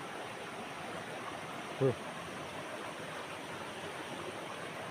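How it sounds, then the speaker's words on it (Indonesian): A swift river flows over many rocks, a steady broadband rush of water heard close by, with one brief spoken interjection over it. "Sungainya banyak batunya guys. Arusnya deras lagi teman-teman."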